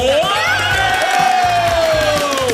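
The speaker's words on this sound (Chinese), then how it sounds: "来宾掌声鼓励" A studio audience of guests on a Mid-Autumn Festival game show breaks into applause and cheering, a dense, close burst of clapping and whoops that holds for a couple of seconds over a host's voice.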